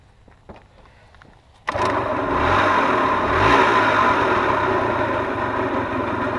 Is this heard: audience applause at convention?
no